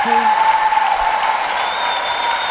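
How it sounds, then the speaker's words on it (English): Crowd at a Korea versus Azerbaijan match roars in steady support of the home Azerbaijan side, a dense continuous cheer with scattered applause under tonal background sounds. "Local crowd going behind the Azerbaijan team."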